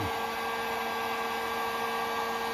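A heat gun or hot air blower runs steadily and loud, blowing hot air onto cold, stiff tubing for an airbag jack to soften it, a continuous whooshing hum with no other sounds.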